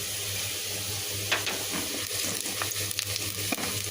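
Onion, garlic and whole cumin tempering in hot oil for a bottle-gourd dal, giving a steady close sizzle and hiss with small crackles and pops throughout, with no talk.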